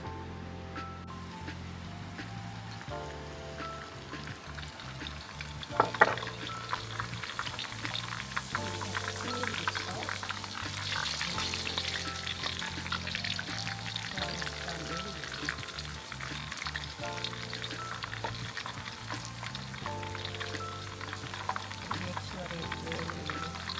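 Marinated chicken for tod beak gai fries steadily over high heat outdoors, a constant dense sizzle with stirring clatter and a sharper clunk near the start, while a voice speaks faintly underneath.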